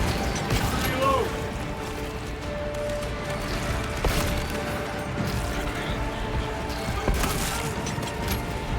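Weapon reloading in the video game Space Marine 2: a run of mechanical clicks and ratcheting clacks, with a couple of sharper knocks, set over a steady bed of game ambience and effects.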